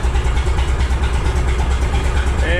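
A 1957 Autocar truck engine idles roughly, not firing on all cylinders after sitting unused for 15 years, with a steady low rumble that runs unbroken and fairly loud throughout.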